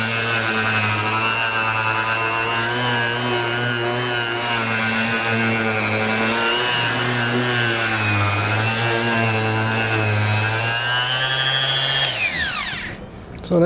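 A Harbor Freight Bauer orbital palm sander runs continuously, a loud, steady motor whine with a strong hum, for over twelve seconds before abruptly winding down and stopping.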